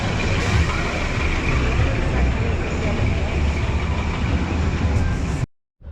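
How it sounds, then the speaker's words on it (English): A large coach bus rumbles past close by with a heavy low engine drone amid street noise and some voices, then the sound cuts out abruptly. "Oh, and there's another coach behind."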